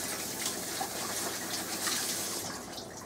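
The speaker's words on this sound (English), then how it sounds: "Wash your hands before touching your food." Running tap water pours steadily while hands are washed under the faucet in a kitchen during cooking, a continuous close hiss of splashing water with no voices.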